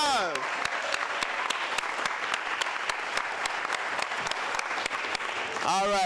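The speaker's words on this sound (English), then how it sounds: "a round of applause" An audience at a political party congress applauds, dense sustained clapping with sharp individual claps, and voices calling out at the start and end.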